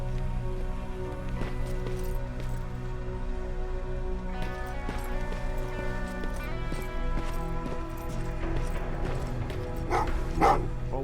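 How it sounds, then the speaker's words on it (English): Dogs barking in the video game Terminator Resistance, several barks under a steady, droning musical score, with faint hoof-like clopping in the background. "what's with the dogs? They've been like that ever since they brought that thing in."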